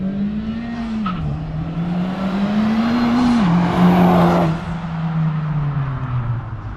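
A Honda Civic Type R FK8 engine revs loudly and close by, its pitch rising, dropping and climbing again in sustained pulls with no talking.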